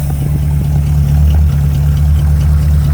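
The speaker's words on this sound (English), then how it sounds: "Exhaust is pretty loud due to the fact that the mufflers have 2 giant gaping holes in them." A 1972 Dodge Crew Cab pickup engine idles with a loud, rumbling exhaust through mufflers with two large holes, a steady deep drone that holds constant throughout.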